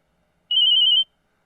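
A mobile phone rings with a short, bright electronic trill, a quick pulsing burst of about half a second heard alone against silence.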